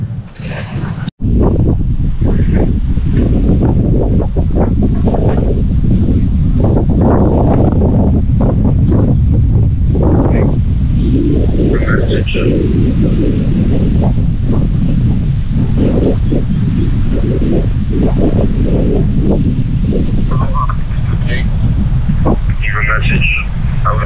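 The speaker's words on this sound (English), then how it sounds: "Come in, it's windy and rainy." Strong wind buffets the microphone on a beach in rainy weather, a continuous loud low roar with gusts, and a person speaks at moments over it.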